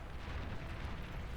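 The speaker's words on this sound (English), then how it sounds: "plasma cannon." Plasma cannon fire in the real-time strategy game Beyond All Reason, a steady low rumbling boom of heavy artillery that holds at moderate loudness throughout without distinct separate shots.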